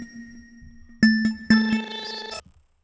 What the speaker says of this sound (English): I don't like that bell.